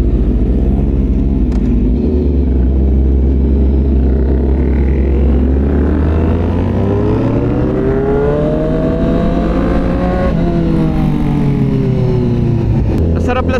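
A group of motorcycles, including a Honda CBR1000RR, ride together downhill on the Marilaque highway, their loud close engine drone rising and falling in pitch as they rev and shift, steady and continuous throughout.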